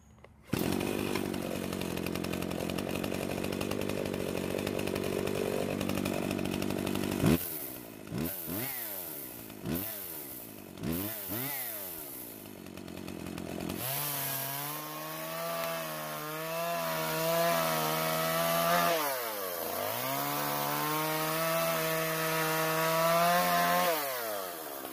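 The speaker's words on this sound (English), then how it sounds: "I bet it cuts better now with the cutters facing the right way" A chainsaw with its chain refitted the right way round after being on backwards, not very sharp, roars steadily, dips and bogs several times as it bites into wood, then settles into a sustained cutting drone with shifting pitch.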